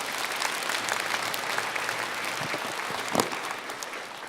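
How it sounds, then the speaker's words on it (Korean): Audience applause at a Buddhist Dharma assembly, with sustained, even clapping from a large seated crowd, fairly distant and without speech. "큰 박수로 환영해 주십시오"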